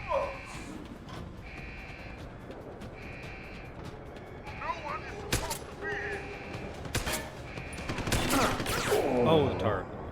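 Gunfire from a turret and an enemy in Deus Ex: Human Revolution, with sharp bursts and shots scattered through repeating beeping alarm tones while a player talks over it.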